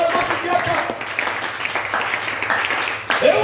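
A church congregation applauds to acclaim the Lord, a steady wash of clapping close by throughout, with voices mixed in.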